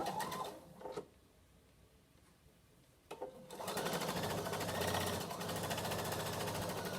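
A sewing machine closing the seam of a fabric pouch, a short burst of stitching, a pause with quiet handling, then a longer steady run of rapid mechanical whirring and needle clatter, close by.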